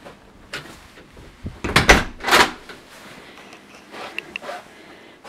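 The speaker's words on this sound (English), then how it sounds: "So come in the front door." Front door of a house being opened on a grey, rainy day: a few close knocks and clunks of the latch and door swinging, with rustling and footsteps, and no speech.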